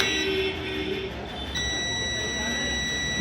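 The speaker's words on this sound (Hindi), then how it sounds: "बीप कर रहा है, इसका मतलब हम लोगों का फ्यूज जो है वो बिल्कुल ओके है" A multimeter set to continuity buzzer mode tests the fuse of an Axiom 18-amp charger. It gives a steady, high-pitched electronic beep that holds without a break against a low background hum.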